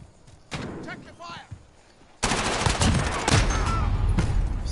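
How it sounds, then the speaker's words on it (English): Rapid gunfire from a teammate in Modern Warfare erupts loud and dense after a quieter stretch, bursts continuing to the end, with players talking over the game. "Why are you trying to shoot your teammate, dawg?"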